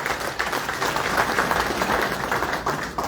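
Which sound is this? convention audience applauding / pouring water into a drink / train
convention audience applauding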